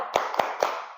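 Three crisp, evenly spaced hand claps in a classroom focus-clap routine, sharp and close, ringing briefly in a quiet room.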